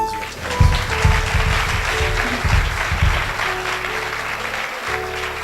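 A church congregation at a Sunday service applauds in a dense, continuous roar of clapping, with some singing and low voices mixed underneath.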